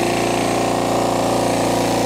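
A pancake air compressor powered by a Kia EV6 runs loud and close, with a steady rapid mechanical chugging and dense motor drone throughout.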